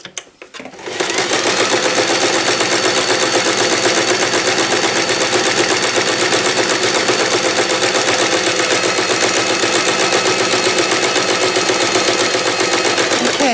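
A sewing machine runs steadily while stitching a fabric drawstring bag, a close, loud, rapid mechanical chatter that starts after a brief pause and continues unbroken without talk.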